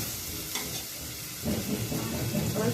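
Onion and tomato fry in a pan, giving a close, steady sizzle with the occasional stirring scrape that grows livelier toward the end, with no one talking.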